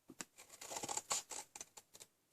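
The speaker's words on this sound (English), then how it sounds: "take our scissors now, and you're going to trim up" Scissors snip through Stampin' Up cardstock along a score line, giving a quick series of close, crisp cutting strokes, soft and isolated.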